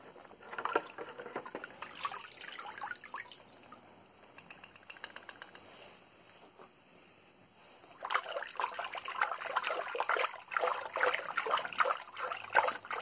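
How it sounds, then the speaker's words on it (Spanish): Water swirls and sloshes in a car wash bucket without a Grit Guard, with a burst of turbulent splashing early on, a quieter lull, then a louder stretch of churning water. "Sin el grid guard hay más turbulencia y el agua va a estar girando por mucho más tiempo."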